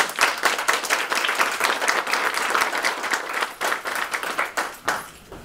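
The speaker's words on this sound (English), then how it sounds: "So let's give them a round of applause." A school audience at a spelling bee competition claps steadily for the students, a sustained round of applause that stays full before tapering slightly at the end.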